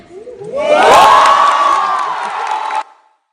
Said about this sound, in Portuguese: Eu acho que os gritos se escutam bem, né?